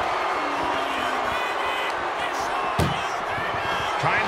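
A single sharp slam of an ambulance door in a wrestling video game, with AJ Styles in an ambulance match, heard over a steady crowd roar and commentary.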